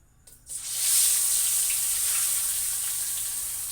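Fish dropped one by one into hot oil seasoned with salt and turmeric in a wok, bursting into a loud, steady hiss and crackle after a brief quiet start, sizzling continuously without any voices.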